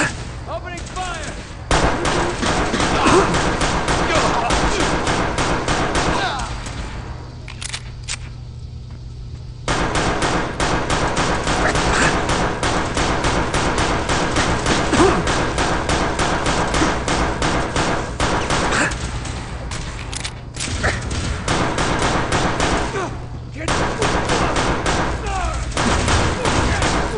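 Sustained gunfire in Fallout 4, long volleys of rapid shots broken by a few short pauses, loud and close, with scattered voices over the shooting.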